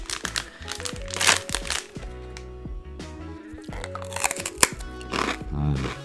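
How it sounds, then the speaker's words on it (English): A curry sesame cracker crunched and chewed up close, repeated crisp crackling bites with short pauses between them, loud and dry, with no talking. "You guys can hear that crunch."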